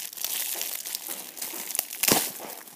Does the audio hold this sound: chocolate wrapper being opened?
yes